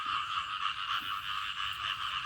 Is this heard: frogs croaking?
yes